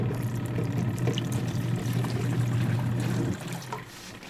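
Water pours from a tap into a Whirlpool Cabrio washing machine, a steady close rushing stream that cuts off abruptly near the end, leaving faint trickles.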